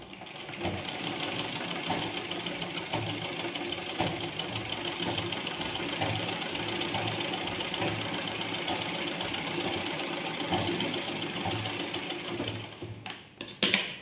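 A sewing machine stitches wave tucks in a continuous fast mechanical chatter, close and steady throughout, then slows and stops with a few separate clunks at the end, with no talking.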